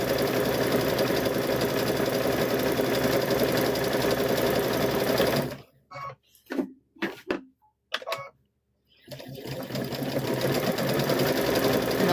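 A sewing machine stitches a quarter-inch seam around the edge of a hummingbird and butterfly quilt block, humming steadily and loudly, then stopping for a few short bursts and pauses before running continuously again.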